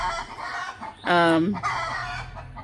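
A hen on a backyard ranch lets out one loud, drawn-out squawk while laying an egg. Softer clucking and low background noise come before and after it.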